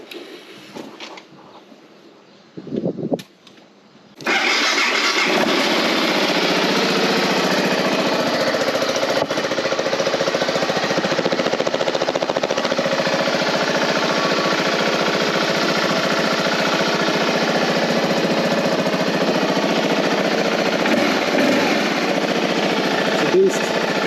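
A motorcycle engine from a collection of bikes fires up and settles into a loud, steady rumbling idle with slight revs. A few brief knocks and handling noises come first.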